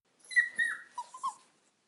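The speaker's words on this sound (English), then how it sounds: "The puppy looked up at me with scared eyes and made another weak sound." A small dog gives a few soft, high-pitched whimpering cries in quick succession, close and fairly quiet, then falls silent.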